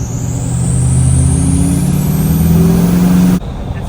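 A Ford 6.7L Powerstroke diesel engine revs loudly and close, with a deep throbbing drone and a rising high turbo whine over it, then drops off abruptly near the end.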